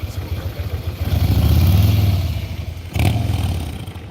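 A small motorcycle engine runs at a low, steady idle, its putter swelling briefly as it is revved twice, close and fairly loud, with no clear talking over it.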